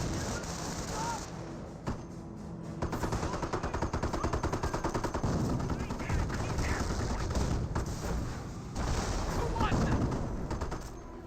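Rapid gunfire crackles from a World War II real-time strategy match, Company of Heroes, with US forces and a Sherman tank against the Wehrmacht, sustained volleys and bursts throughout while a commentator talks over it.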